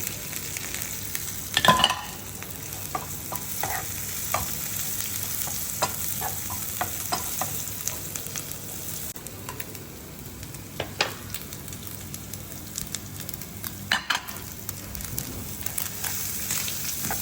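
Mustard seeds spluttering in hot oil as a tempering, with scattered sharp pops and crackles over a steady low sizzle, a few louder bursts near the start and again later.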